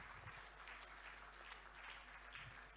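A conference audience applauds after a keynote address with steady, dense clapping that holds evenly for about three seconds, heard from a little distance.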